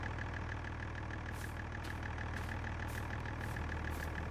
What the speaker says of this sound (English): I hear my tractors when I've turned them on.